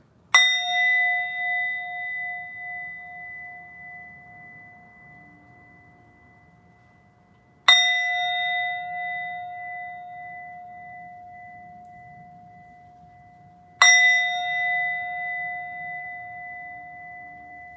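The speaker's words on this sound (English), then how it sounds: "Sometimes I'll hit the bowl and I'll put it like right in front of my third eye" A singing bowl struck three times at wide intervals, each strike a clear bright ding that blooms into a long pure sustained ring and slowly fades, close and alone in a quiet room.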